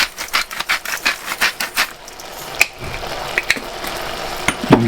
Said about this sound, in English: a little grind of salt